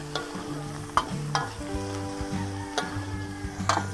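Steady sizzling of chicken livers frying in a pan, with several sharp clinks of a utensil stirring against the metal.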